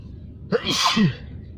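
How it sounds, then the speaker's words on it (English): One loud, close sneeze with a short vocal onset and a breathy hiss trailing off, otherwise quiet. "I really didn't want to sneeze"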